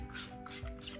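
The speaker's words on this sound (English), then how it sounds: "So you take that and rub it along, and that takes it off really nicely as well." Dried masking fluid being rubbed off watercolor paper, a soft, close, continuous scratchy rubbing for about a second.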